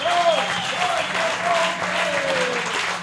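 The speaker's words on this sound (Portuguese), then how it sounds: "O apelo público desse merece muitas palmas." Audience applause at a festival debate, continuous crowd clapping with a few voices calling out and a faint whistle-like tone drifting over it.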